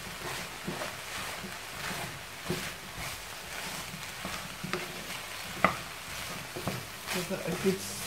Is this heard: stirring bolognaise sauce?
yes